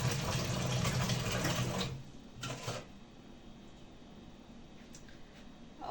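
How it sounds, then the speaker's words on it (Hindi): Water splashes and gurgles as it is poured onto rice in a home kitchen pot, a steady close stream for about two seconds, then a couple of brief splashes before it quiets to faint background hiss. "और ये डाल दिए मैंने चावलों में पानी।"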